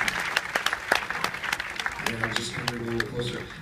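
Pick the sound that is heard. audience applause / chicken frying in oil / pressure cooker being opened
audience applause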